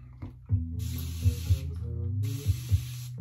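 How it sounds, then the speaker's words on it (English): Several short hissing sprays of water from a spray bottle onto shaving cream during a wet shave, bursts of mist over a low background hum, close and fairly quiet. "I use my spray bottle to add water."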